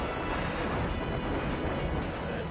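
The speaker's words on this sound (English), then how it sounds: "That train's going awful fast." A speeding train in the Final Fantasy VII Crisis Core video game rushes past as a steady, loud, broadband rumble and roar that fills the whole moment without letup.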